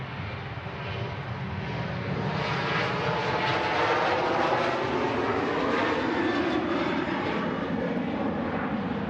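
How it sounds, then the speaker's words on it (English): A Ryanair UK airliner departs from runway 23 right at Manchester Airport, its engines roaring loud and steady throughout with a broad, continuous rumble and no pause. "Ryanair UK aircraft departing here on 23 right"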